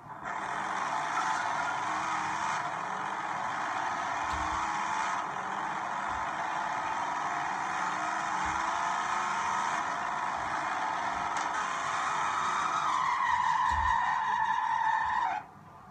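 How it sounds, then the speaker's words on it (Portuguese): A modified BMW engine in the game Los Angeles Crimes holds a steady, buzzy drone, rising in pitch near the end before cutting off abruptly. "O som do carro tá muito maneirinho."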